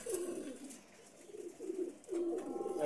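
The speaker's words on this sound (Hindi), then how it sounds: "ये दिखाओ जरा टैडी, एकदम रेडी 24 साल वाला कबूतर है टैडी" A Teddy breed pigeon in a breeder's loft gives a series of low, soft rolling coos, three or four repeated phrases, close and fairly quiet with no talking.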